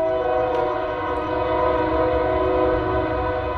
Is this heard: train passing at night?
yes